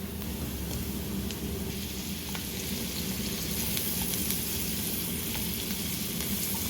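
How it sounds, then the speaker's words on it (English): Ghee or butter sizzles loudly and steadily in a pan with onions for a keto breakfast hash, a continuous close frying hiss with occasional faint crackles. "So now I'm going to add the ghee or the butter, whichever you're using."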